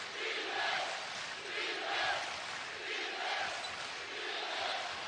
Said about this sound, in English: Going to hear this cheer an awful lot.